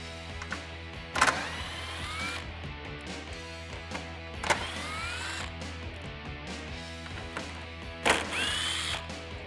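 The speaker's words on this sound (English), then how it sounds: "I'm going to use a 10 millimeter socket and an 8 millimeter socket to remove the five screws." A power socket tool whirs and ratchets while removing headlight screws on a Ford F150, in short bursts with sharp clicks about every few seconds over a steady background hum, close and fairly quiet.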